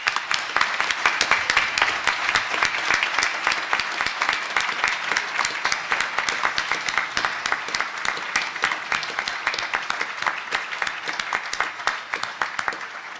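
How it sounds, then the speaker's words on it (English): Sustained audience applause honoring author Michael Crichton at a panel event, dense and steady claps filling the room for over ten seconds with no talk. "Michael, I think, deserves a special applause, and if you join with me, I want to thank him again."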